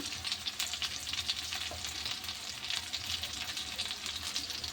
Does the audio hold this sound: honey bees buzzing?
no